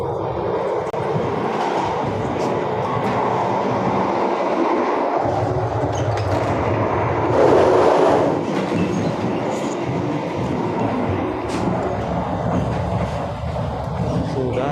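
Inside a carriage of the Mataram passenger train on the Jogja–Jakarta run, a continuous rolling rumble with rhythmic rail clicks and a brief louder swell midway, heard from within the coach.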